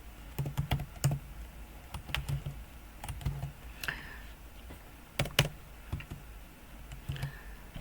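Irregular keyboard typing on a computer keyboard, quick clusters of light clicks with short pauses, fairly close and quiet, no voices.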